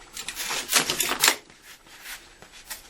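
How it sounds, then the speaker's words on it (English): Short sharp cuts from a standard utility knife slicing through a flooring edge strip, a quick burst of crisp scraping clicks up close, then quieter scattered ticks. "Edge strips cut simply with a standard utility knife."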